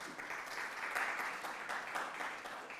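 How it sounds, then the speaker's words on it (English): Steady applause from a conference audience at the ACSIS 2025 event, a dense even patter of many hands clapping at moderate level, sustained without pause for a few seconds with no talk over it. "They deserve a round of applause for doing this today."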